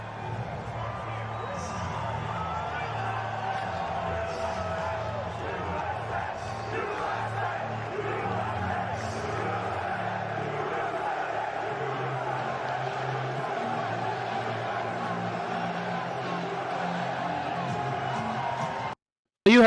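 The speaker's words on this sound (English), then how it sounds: "Crowd is chanting USA." A large crowd chants USA at a UFC event with the president in attendance, a steady roar of many voices throughout, rising and falling in rhythmic surges, close and loud.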